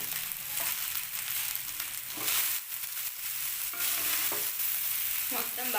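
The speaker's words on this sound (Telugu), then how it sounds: "మొత్తం బాగా మిక్స్ అయ్యే వరకు మిక్స్ చేసేసుకుందాం." Cooked rice is stirred into a tamarind leaf pulihora mixture, giving a continuous close scraping and mixing sound with a faint sizzle underneath and no talk.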